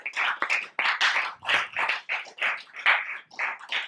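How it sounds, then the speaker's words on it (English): An audience claps at a book launch event for the novel ELIXIR in Dehradun, a sustained burst of fairly close applause with pulsing waves of hand claps and no talking over it. "big round of applause right here for the book ELIXIR by Sanjani Sengupta"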